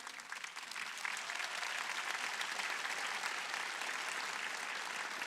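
A church congregation at a Korean worship service breaks into sustained applause, a dense, steady clapping from a large crowd that swells after the first second and holds evenly.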